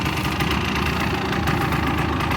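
A 1985 Honda ATC250R three-wheeler idles steadily after a kick start, a continuous low, lumpy engine burble with mechanical rattle, close and loud throughout.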